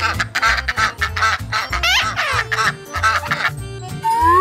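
A toy duck quacks repeatedly in quick, close, loud bursts, with a few squeaky toy tones near the end.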